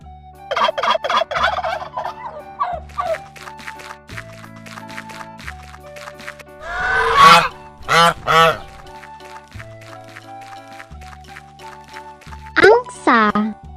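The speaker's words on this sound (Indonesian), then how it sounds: "Angsa." Goose honks come in a series of short, loud, harsh calls in quick clusters, heard close alongside other farm animal sounds and a voice.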